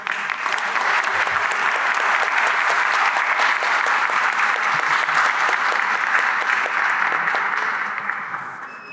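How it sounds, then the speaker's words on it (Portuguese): A full audience at a panel on Jewish immigration history in the Amazon claps in a long, dense, even round of applause that holds steady for several seconds before tapering off at the end. "agradeço agora as palmas"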